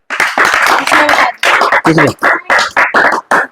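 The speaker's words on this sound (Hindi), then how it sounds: "वेरी गुड, जोरदार तालियां।" Loud, uneven clapping from a small group during a show of children guessing hidden playing cards, arriving in sharp choppy bursts with brief gaps between them, close and forceful.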